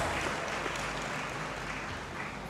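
An audience in a great hall at a university college of humanities graduation ceremony applauds, many hands clapping in a continuous, even roar.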